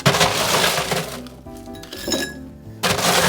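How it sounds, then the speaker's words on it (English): Ice cubes clatter and crack into a metal cocktail shaker while a vodka martini is being prepared, a loud rattling pour with a brief lull before a final burst of clinking. "let's get some ice in this thing."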